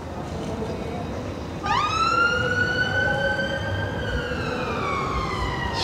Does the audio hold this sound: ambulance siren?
yes